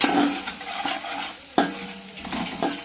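Biryani masala frying and being stirred in a pan for chicken dum biryani, a steady close sizzle broken by sharp scraping strokes of the spoon at irregular intervals, with no voices.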